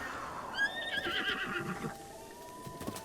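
A horse in Zelda: Breath of the Wild answers a call with a clear, drawn-out whinny, rising then falling in pitch, fairly close and alone with no talk.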